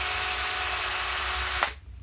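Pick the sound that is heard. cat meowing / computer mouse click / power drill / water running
power drill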